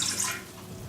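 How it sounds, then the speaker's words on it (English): About two cups of water are poured into a stand mixer bowl, a short hissing splash that fades quickly with no talk over it. "So you'll pour the water,"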